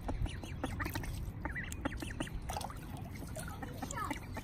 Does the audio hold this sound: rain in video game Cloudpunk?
no